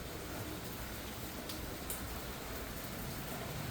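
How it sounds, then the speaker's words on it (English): Rain falls outside in a steady, soft wash of hiss, faint but continuous, with a couple of brief drips or taps standing out. "Right now it's raining"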